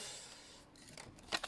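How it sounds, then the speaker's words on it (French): A pair of fish scissors snips open a small plastic bag of screws while a 1/8 scale Ford GT40 model kit is being assembled. A couple of faint, quick cuts come near the end over a quiet background. "Vous avez vu un peu la paire de ciseaux."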